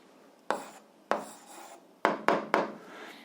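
Pen or chalk writing out a maths answer, five sharp scratchy strokes each trailing off, close and fairly quiet with no talk.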